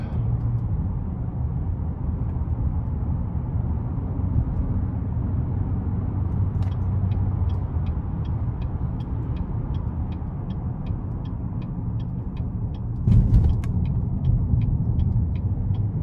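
A car with a nine-speed automatic pulls away from auto stop under light throttle, making a steady low engine rumble and road hum, with a regular faint ticking through the middle and a brief louder thump near the end.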